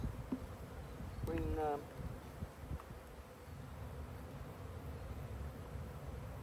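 A low, steady hum of honeybees fills the hive during a spring inspection, with a brief rising buzz passing close by and faint rustling underneath.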